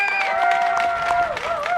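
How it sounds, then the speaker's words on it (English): At a sold-out women's recurve archery final, a crowd cheers and applauds with sustained tonal cheering voices riding over a bed of clapping, fairly loud and continuous. "It sounds like there's some big crowd support there for Gorja"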